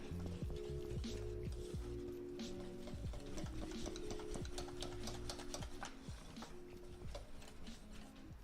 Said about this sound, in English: Stir our cheese